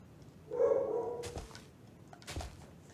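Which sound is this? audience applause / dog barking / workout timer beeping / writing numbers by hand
dog barking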